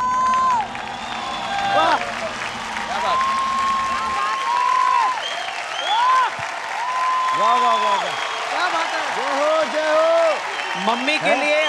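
Studio audience applause and cheering at a televised children's singing contest, sustained and fairly loud throughout, with a host's voice and sung or spoken tonal phrases riding over the clapping.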